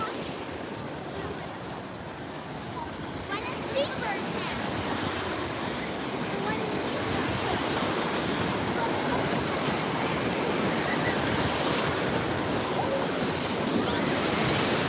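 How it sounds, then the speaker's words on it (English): Ocean surf roars continuously, a broad wash of breaking waves and spray, loud and close, with faint wind mixed in. "Oh, I love the waves too."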